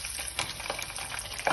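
Oven chips fry in hot oil in a pan on the stove, making a steady close sizzle with bursts of crackle.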